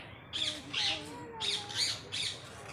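A parrot lets out a series of harsh, close squawks in two clusters of rising and falling calls, with brief quiet gaps between them and no speech.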